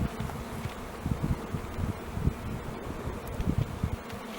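Honey bees swarm around a hive frame with drones among them, a dense steady buzz close by with slight wind rustle.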